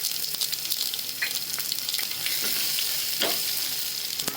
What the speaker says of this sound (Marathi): आता याच्यात अर्धा चमचा मोहरी मोहरी तडतडली त्याच्यात चांगली जिरे अर्धा चमचा